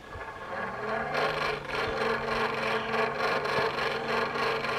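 A Buffalo Forge blower on a forge runs steadily at close range, a continuous whirring, rasping rush of air with a low hum underneath that swells slightly after the first second and holds with little change.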